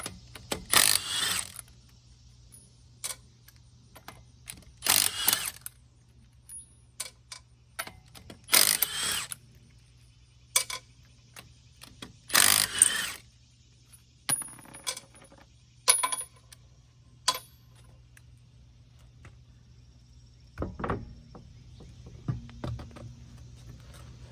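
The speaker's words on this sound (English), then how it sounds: "we're gonna go ahead and take off the tire or the wheel" Lug nuts being removed to take a wheel off a Kia or Hyundai during timing component work, heard as sharp metallic clicks, ratcheting bursts and nuts clinking, spaced irregularly over a quiet garage hum.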